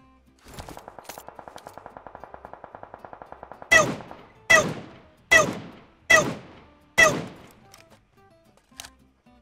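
Gunfire in the mobile battle-royale game PUBG Mobile: a rapid burst of automatic fire runs for about three seconds, then five loud, evenly spaced single shots with ringing tails, ending in a fainter distant shot.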